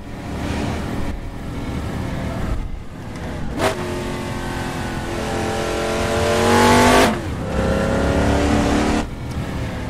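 A GMC Vandura 1500 van engine in the Assetto Corsa racing game revs and climbs through the gears, loud and continuous, with brief dips at shifts and a strong rise near the end.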